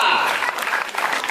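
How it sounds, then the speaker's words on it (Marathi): Brief burst of audience clapping at a village Women's Day celebration, lively and fairly close, fading slightly toward the end. "वाजवा की राव टाळ्या"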